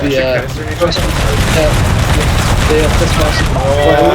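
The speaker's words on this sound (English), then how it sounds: "I'm also watching a canister war between the 12-pound Prussian artillery and the 12-pound Bavarian artillery." Artillery canister volleys from 12-pound Prussian and Bavarian guns in Napoleon: Total War rumble and crackle as a dense, continuous barrage, with an excited voice talking over the gunfire.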